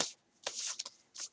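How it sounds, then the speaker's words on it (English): Tarot cards pulled and handled from a row spread out on a table, with short papery riffles and slides in three quick bursts, close and fairly quiet, no talking. "I'm going to pull one more card"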